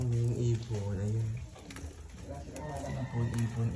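A flock of pigeons around a house coos in low, repeated throaty calls, close and steady across the whole stretch, mixed with other bird sounds.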